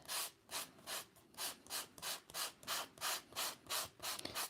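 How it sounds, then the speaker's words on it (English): Sandpaper rubs back and forth across card in a steady rhythm of about a dozen short, even, scratchy strokes, close and fairly quiet, with no talking. "So you can sand"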